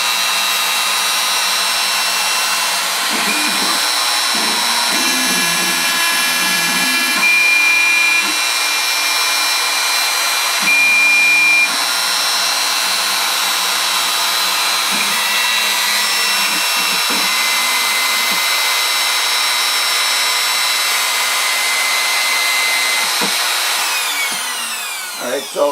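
A Larken CNC bottle cutter runs a cycle with a steady, loud mechanical hum and whine, stepping through shifting motor tones and brief pitch changes before winding down at the end.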